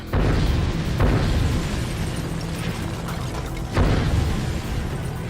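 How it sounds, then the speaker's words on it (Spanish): Explosive charges blow apart a solid table on a film set: a loud, close blast with a sustained roaring rumble, then a second burst near the end, with no voices. "La explosión hace añicos la mesa maciza."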